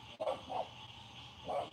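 A new puppy gives a few short, light yips: two close together near the start and one more about a second later, soft and fairly close in a quiet room.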